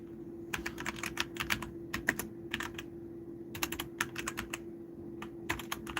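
Computer keyboard typing in quick bursts of clicky keystrokes, separated by short pauses, fairly close but quiet over a steady low electrical hum.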